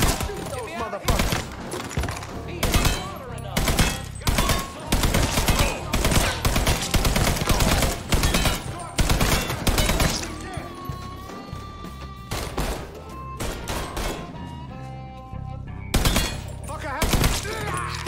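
Heavy gunfire from the Mafia 3 video game, with rapid bursts and single shots cracking close and loud across the whole stretch, mixed with crashes and a busy game soundtrack.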